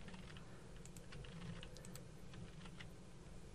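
Rapid typing on a computer keyboard, light clicking keystrokes in a steady, uneven patter, close but soft, with no voices.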